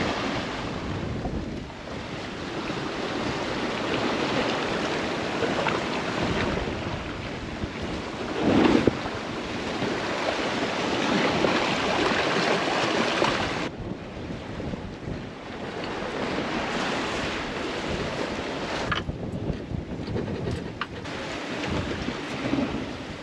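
Heavy ocean rollers surge behind a sailboat at sea, a continuous roar of waves and buffeting wind with swelling and fading crests.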